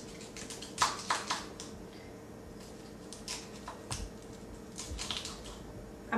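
A kitchen knife slices asparagus into 2-inch pieces, making sharp, irregular taps and clicks on a cutting board over a low steady background hum.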